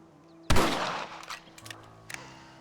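A single sharp rifle shot in the Western video game Red Dead Redemption, a loud crack followed by a long rolling tail and a few faint clicks, with no talking.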